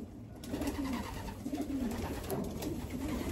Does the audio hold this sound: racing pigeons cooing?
yes